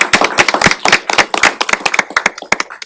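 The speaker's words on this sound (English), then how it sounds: "if we could give a round of applause" A small group claps at a county commissioners' meeting, honoring the fair board and volunteers; distinct, fairly sparse hand claps ring out close and loud in an uneven patter for a few seconds, with no talking.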